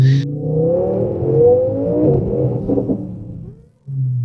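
A twin-turbo Audi R8 engine revs hard, a loud close roar climbing and falling through a couple of throttle blips before cutting briefly and returning to idle.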